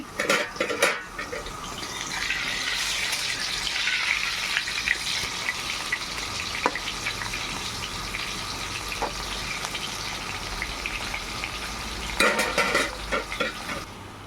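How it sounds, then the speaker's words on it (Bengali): Potatoes sizzle steadily in hot oil in a pan while biryani is being cooked, with utensil clatter and stirring scrapes near the start and end. "আলুটা ভাজা হচ্ছে।"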